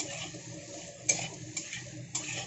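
Elephant foot yam frying in hot oil in a pan, a steady close sizzle with three sharp pops standing out at roughly even intervals.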